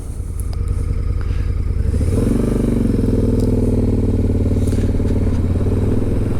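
A new motorcycle during break-in cruises at low RPM, about 25 mph through a small town. After the first couple of seconds the engine drone rises into a steady, loud, close hum that holds without any speech.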